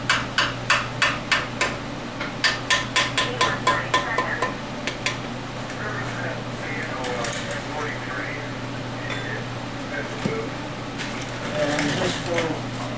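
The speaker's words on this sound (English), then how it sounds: "Sometimes that one takes a little persuading, and that's when you use a clean, soft-faced hammer" A clean soft-faced hammer taps a crankshaft into place on a 1978 Chevy 350 engine, about a dozen quick, sharp knocks in two bursts, followed by quieter shop sounds and a voice.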